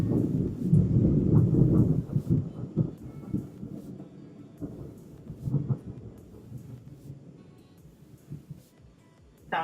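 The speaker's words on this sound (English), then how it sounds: "there's currently like a downpour going on outside, so if you guys hear any thunder" Deep, rolling thunder rumbles loudly at first, then fades into softer distant grumbles, with a faint wash of rain underneath.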